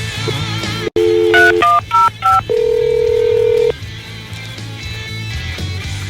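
Telephone keypad tones: a run of short DTMF beeps at irregular spacing, then one long steady tone, loud and clear over a low hum, with no talk.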